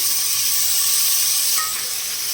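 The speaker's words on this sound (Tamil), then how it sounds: "ஒன்றா சேர்த்து வதக்கிக்கலாங்க ஒரு 5 நிமிஷத்துக்கு" Tomatoes and mixed vegetables sautéing in a pan for sambar give a steady, close sizzling hiss with no pauses, easing slightly toward the end.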